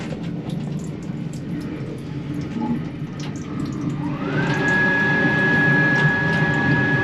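Water runs from the sink tap in a train washroom in Morocco, starting as a faint trickle and swelling into a steady close stream with a rising whine, over the rumble of the moving train.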